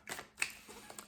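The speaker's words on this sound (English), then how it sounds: "So I need to shuffle the cards again a little bit." Tarot cards being shuffled by hand, heard as a few soft, quick papery clicks and riffles in short bursts, quiet and close, with no voices.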